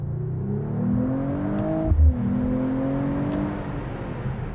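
A Mercedes-AMG CLE 53 engine pulls hard through the revs, its pitch rising steadily, dipping briefly at a gear change, then climbing again; loud, close and continuous.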